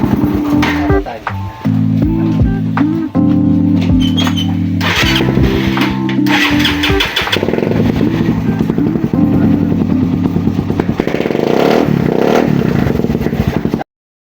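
An old motorcycle engine that had sat unused for a long time idles and revs close by, sputtering and rattling with metallic clatter, the throttle rising and falling throughout.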